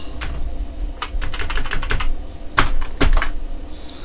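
Keys clatter on a computer keyboard as Python Django code is typed, in scattered bursts of close, crisp keystrokes with short pauses and a couple of louder strikes near the end.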